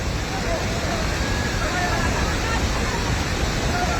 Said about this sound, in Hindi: कहाँ से पानी आ रहा है ऊपर से भी आ गया